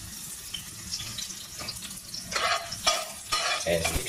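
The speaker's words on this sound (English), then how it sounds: "the oil is very hot and I put garlic" Close sizzling of garlic frying in very hot oil in a frying pan, with scraping and stirring bursts growing louder toward the end.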